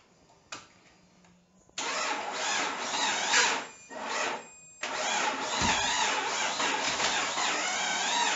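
A 2005 Jeep Grand Cherokee with a Hemi V8 suffering a dropped valve seat cranks over in bursts, a sharp click and brief pause before sustained starter churning, a short gap, then more continuous cranking, loud and close.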